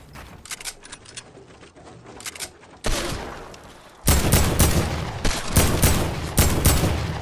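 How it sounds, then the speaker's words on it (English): Gunfire in the Fortnite video game, repeated sharp shots growing louder, ending in dense close bursts of rapid fire. "there's another guy shooting at me"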